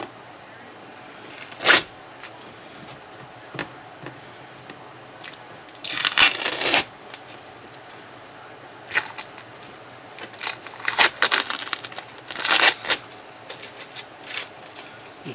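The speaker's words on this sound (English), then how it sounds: "So I'm going to peel off the molds now and see how it looks." Molds being peeled off a fiberglass deck hatch repair on a sailboat, heard as scattered sharp tearing and crackling bursts of tape pulling away from cured epoxy, some quick and single, others longer and clustered, with quiet gaps between.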